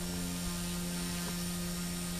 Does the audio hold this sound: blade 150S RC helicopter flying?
yes